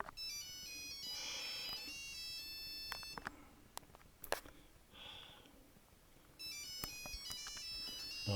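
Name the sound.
telephone ringing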